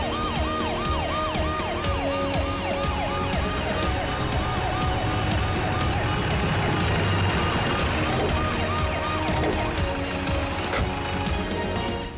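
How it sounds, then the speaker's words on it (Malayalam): A police vehicle's siren wails in repeated rising and falling sweeps as it arrives, loud and close for most of the stretch over a busy road background, with some voices mixed in. "അങ്ങോട്ട് നോക്കൂ, പോലീസ് വണ്ടി എത്തിക്കഴിഞ്ഞു"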